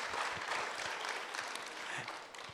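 Meeting audience gives a round of applause, a faint, distant steady patter of clapping lasting a couple of seconds.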